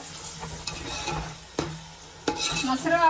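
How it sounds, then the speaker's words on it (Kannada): Yogurt being stirred into chicken biryani masala frying in oil in a pan, with a soft steady sizzle and several scraping spoon strokes against the pot. "ಚೆನ್ನಾಗಿ ಎಣ್ಣೆ ಬಿಡ್ತಾ ಇದೆ ಮತ್ತೆ ಫ್ರೈ ಆಗ್ತಾ ಇದೆ"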